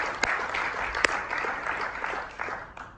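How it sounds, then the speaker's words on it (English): Audience applause for the speakers at an energy presentation in Jerusalem, a dense, steady wash of many hands clapping that continues throughout, with a few sharper individual claps standing out. "let's hear an applause for all of our speakers today and all of our presentations"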